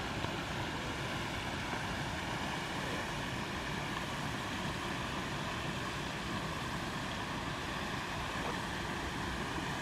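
A small waterfall on a river and woodland walk in Winsford pours as a dense, constant broadband rush, loud and unchanging throughout with no voices.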